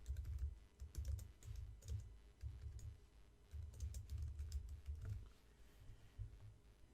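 Steady close clicking of a computer keyboard as letters are entered, quick uneven bursts of keystrokes with short pauses between them and no talking.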